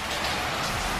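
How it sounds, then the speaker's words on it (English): Heavy rain falling outside, a dense, even, fairly loud hiss with no voices, steady for its whole short length. "Guys, look how hard it's raining."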